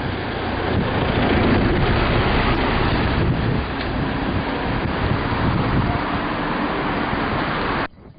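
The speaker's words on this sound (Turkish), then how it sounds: "İnegöl'de dün gece esmeye başlayan rüzgar öğleden sonra yerini lodosa bıraktı." Strong southwesterly lodos wind in İnegöl, Turkey, nearing 40 km/h, roars steadily into the microphone, a loud, constant rushing buffeting that cuts off abruptly at the end.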